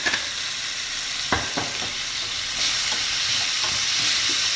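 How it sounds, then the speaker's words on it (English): Baby corn Manchurian mixture with vinegar and sugar is stirred in a hot pan, giving a steady sizzle with a few spoon scrapes near the start and the frying hiss growing slightly louder toward the end. "Now giving it a good mix."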